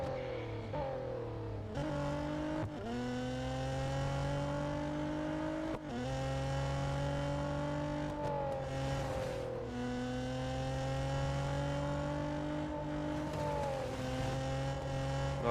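Race car engines in the Real Racing 3 video game: a continuous, loud engine drone that rises in pitch through each gear, then drops sharply at every shift, repeating throughout.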